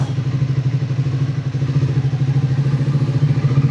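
Triumph Speed 400 motorcycle on a ride, its engine thumping in a steady, rapid pulse with a strong low drone and light clattering, close and continuous.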